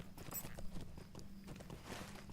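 A horse's hooves clip-clop in a video game, a quick, even run of hoofbeats at a moderate level, with no one speaking.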